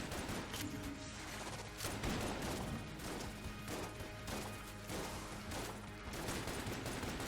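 Rapid, dense gunfire with a wide spread in the roguelike shooter Enter the Gungeon, a steady barrage of overlapping shots and impacts under game music, loud and continuous throughout.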